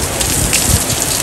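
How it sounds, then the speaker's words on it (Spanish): Heavy rain pours steadily and close by, a dense, unbroken hiss of drops striking surfaces that continues throughout without any voices. "Ay, qué lluvia."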